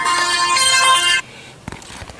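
A phone ringtone chimes loudly in a repeating melodic pattern for about a second, then cuts off, leaving quiet room noise with a few faint knocks during a swamp cooler installation.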